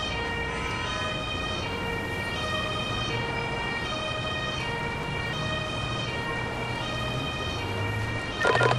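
An ambulance siren from the video game Emergency 2017 wails steadily in a repeating tonal pattern over road and engine noise, with a brief louder burst near the end.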